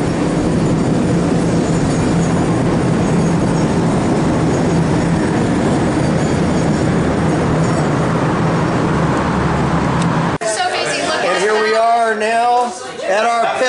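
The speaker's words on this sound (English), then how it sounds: "Oh, the bridge is shaking. There's a train right behind us." A train rumbles past close by on a shaking bridge in Sydney, with a loud, sustained roar and some metallic screech, then cuts abruptly to people talking.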